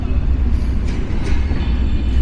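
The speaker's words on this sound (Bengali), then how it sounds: "বড়সড় একটা রেল কার্ভ নিয়ে আন্তনগর পঞ্চগড় এক্সপ্রেস অতিক্রম করে যাচ্ছে খিলগাঁও রেলগেট" The Panchagarh Express intercity train rolls around a long curve past Khilgaon rail gate, a loud, close, steady low rumble of wheels and carriages.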